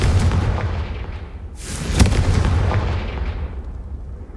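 Spell blasts and combat explosions in the video game Hogwarts Legacy, a loud booming burst near the midpoint over a dense, rumbling battle bed that fades toward the end.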